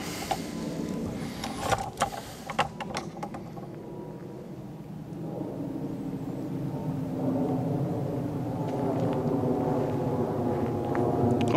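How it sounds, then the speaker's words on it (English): A low, steady engine rumble overhead swells gradually louder, like a plane passing high above, with a few faint clicks and rustles early on. "I can hear an aeroplane above as well."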